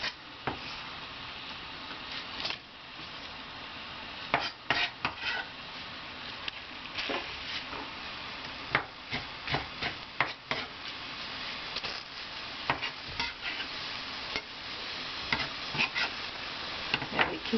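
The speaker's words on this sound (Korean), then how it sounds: "이렇게 같이 넣어서 볶을래요." Ingredients for a black soybean kongbiji stew with kimchi stir-fried in a pan, a soft, steady background of scraping and light knocks from a utensil, with an irregular rhythm, close by and fairly quiet.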